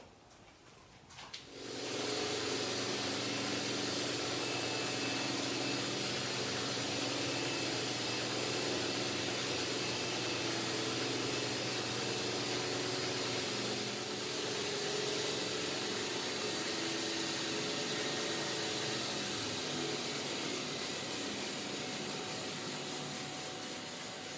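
A worktable sawmill cutting a log starts up after a brief quiet moment and runs with a loud, steady motor roar, while a dust extractor hisses continuously beneath it until the end.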